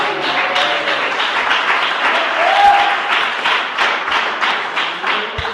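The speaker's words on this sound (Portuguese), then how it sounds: "Palmas para Jesus, irmãos." Church congregation applauding, a loud, sustained burst of many hands clapping steadily, with a couple of low thumps and faint voices underneath.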